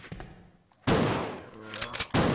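Gunfire in the video game Resident Evil 2: two loud, sharp blasts roughly a second apart, each with a short ringing tail, following a quieter stretch with faint sounds.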